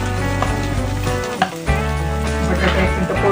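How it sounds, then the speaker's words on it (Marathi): Boiled potato pieces fry with chili paste in hot oil, giving a loud, steady sizzle that runs throughout with one brief dip partway through and no talking. "बटाटा एक मिनिट परतून घेऊ आपण."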